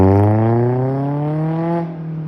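A 2011 Scion tC accelerating with a HIKEit X9 throttle controller, its engine note climbing steadily in pitch, loud and close, then easing off near the end with no talk.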